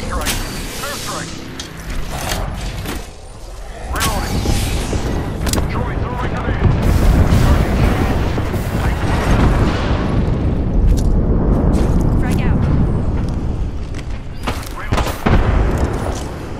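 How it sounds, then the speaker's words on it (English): Heavy airstrike explosions rumble and boom almost continuously in Apex Legends, loud and close, with sharp blasts near the start and end and faint game chatter underneath. "Only the airstrike. Airstrike!"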